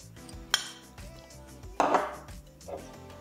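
Potatoes tossed with garlic and onion powder in a bowl produce a few clinks and knocks of a utensil against the dish, with a louder scraping clatter in the middle, in a quiet kitchen.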